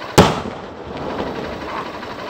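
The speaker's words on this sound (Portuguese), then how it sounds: "Quarta explosão já, a gente não consegue estourar o cofre." A single sharp blast at the start, loud and close, as robbers blow up an armored truck on a highway, followed by a lingering rumble and outdoor background noise.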